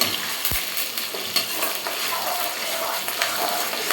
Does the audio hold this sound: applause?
no